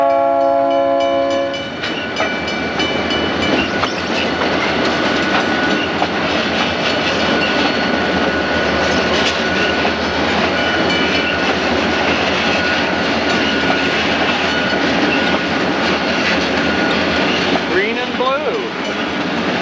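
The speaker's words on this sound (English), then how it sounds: "watching the westbound MKT freight train head from Houston to Smithville" A westbound MKT freight train running from Houston toward Smithville rolls past loudly and close, with a horn blast at the start, then a steady roar of wheels and cars for the rest of the pass.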